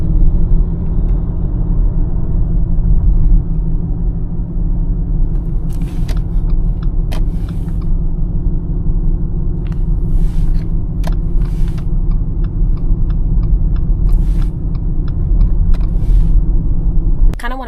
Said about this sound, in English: right now we're just navigating through traffic